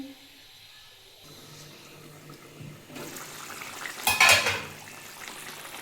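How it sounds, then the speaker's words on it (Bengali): A pot of potatoes set to boil for pomfret curry gets covered with a lid, giving a brief metallic clatter and clink of pan and lid in a quiet kitchen, with faint cooking hiss underneath. "এবার এটা একটু পাঁচ মিনিটের জন্য চাপা দিয়ে দেবো ওটা সেদ্ধ হওয়ার জন্য"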